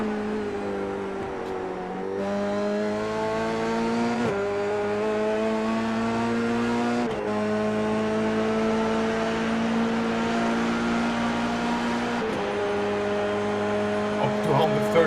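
A Formula 3 race car in a racing video game at Suzuka runs at full throttle, its engine note climbing steadily through the gears with brief dips at each upshift, loud and continuous, while a commentator talks over it.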